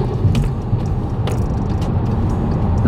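A silver Honda Civic SE, a model from around 2006–2007, rolls past with a steady, close low engine and road rumble and faint mechanical rattles, with no talk.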